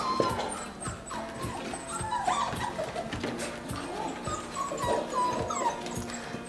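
Mini Goldendoodle puppies in crates whimper, yip and shuffle while eating, with soft clattering and scattered high whines at moderate distance, continuous throughout and with no talk.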